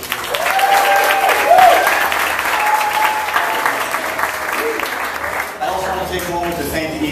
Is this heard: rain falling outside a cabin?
no